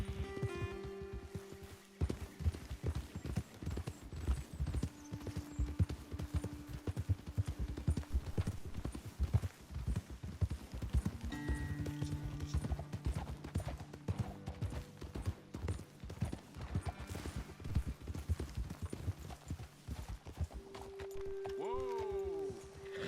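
Horse hooves clip-clop in rapid, uneven rhythm in Red Dead Redemption 2 as several horses ride along a trail, up close and continuous, with music tones and game sounds mixed underneath.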